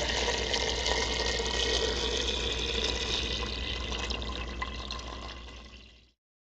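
Water pours steadily from a tap into a pot of bones and lemon juice for a homemade broth. The stream stays constant and fairly loud, then cuts off cleanly near the end.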